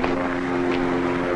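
A propeller airplane in a 1970 comedy scene drones at a steady pitch, a constant engine hum holding evenly throughout the short moment.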